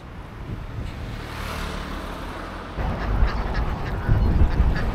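Ducks at a roadside duck farm along a rainy highway in Vietnam quack in a busy chorus, heard alongside steady road and rain noise with passing traffic.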